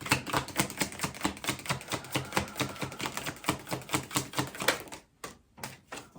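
Tarot cards being shuffled in quick, rhythmic riffling bursts, close and fairly loud, clattering steadily for about five seconds before stopping abruptly, with a couple of soft taps afterward and no talking.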